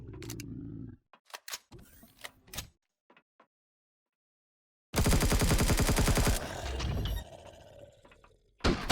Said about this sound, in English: we're getting fire from a turret